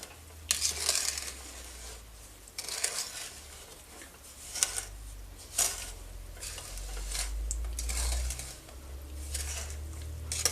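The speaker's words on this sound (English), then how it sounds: "And we'll stir this around just to get the sugar dissolved a little bit." A spoon stirs a sugar and butter mixture in a pot on the stove for chocolate marshmallow fudge, scraping and clinking against the metal in repeated strokes, close up, with a low hum underneath.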